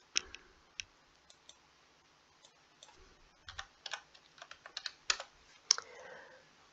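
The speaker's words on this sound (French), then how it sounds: "On a tapé XRP, on va essayer de taper Ripple." Close, crisp keystrokes on a computer keyboard come in sparse, irregular clusters as a word is typed, with quiet gaps between the taps.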